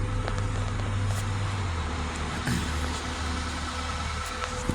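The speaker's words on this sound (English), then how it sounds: "I have the car running at the moment" A high-mileage 1998 Toyota Corolla VE engine idles steadily with a low, even rumble and hum, continuous throughout with no talking.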